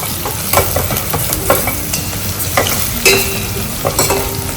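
Chicken rasam being stirred in a hot pan, an oily sizzle with repeated scraping clinks of the spoon against the pan, close and loud, with no talking.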